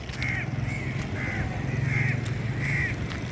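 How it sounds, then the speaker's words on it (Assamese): Several crows caw in Golaghat town, Assam, near a stadium and open field: about five harsh calls repeat at a steady pace, clear over a low continuous outdoor hum, with no talking. "ইয়াতে কাউৰী বহুত আছে কা কৰি আছে"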